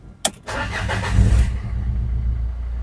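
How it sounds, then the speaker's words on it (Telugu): A 2015 Renault Lodgy RXZ eight-seater catches on one short, sharp crank, then settles into a steady, low, rumbling idle, close and loud, with no voices. "సింగిల్ సెల్ఫ్లో స్టార్ట్ అయింది సార్."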